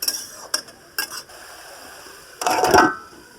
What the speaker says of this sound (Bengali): চাল কুমড়োটা একটু নেড়ে নিচ্ছি